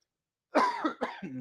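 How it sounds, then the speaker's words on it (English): After a moment of silence, one sharp, close cough bursts out, followed by a second shorter cough and a brief throaty sound. "I got this cough."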